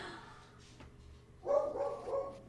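A puppy giving a short burst of yipping barks and whimpers, close and fairly loud against a quiet indoor background.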